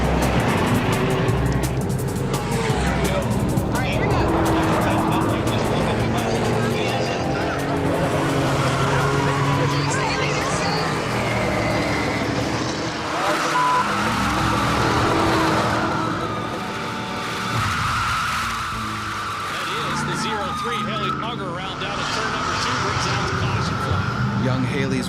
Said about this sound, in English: In her Binion-sponsored car, she spun out.